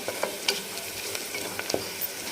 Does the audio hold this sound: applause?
no